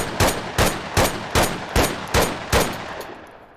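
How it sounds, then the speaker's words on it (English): Spaz 12 shotgun fired in the VR shooter Onward, six loud, evenly spaced blasts about half a second apart, each with a short reverberant tail, no talk. "the Spaz 12 is no different. I think it might have a higher rate of fire. I don't know. Let's yank on the trigger here"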